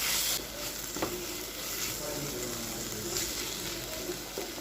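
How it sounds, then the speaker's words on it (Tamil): Dry fish gravy (karuvattu thokku) is stirred in a hot pan, giving a steady, soft sizzle with faint scraping as the spoon moves, continuous and fairly quiet throughout. "இப்போ இதையும் நல்லா மிக்ஸ் பண்ணிடுங்க."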